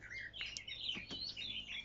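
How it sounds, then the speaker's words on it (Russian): Small birds chirp and trill outdoors at a summer dacha garden with young grapes, a steady run of high tweets and short calls close by, alone without talk. "Как птички поют."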